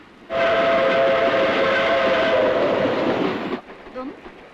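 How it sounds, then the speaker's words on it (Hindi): A train bound for Bombay in a Hindi film scene rumbles past with a loud, steady roar and a sustained whistle tone for about three seconds, then cuts off abruptly into quieter background. "ये रेल तो बम्बई जा रही है।"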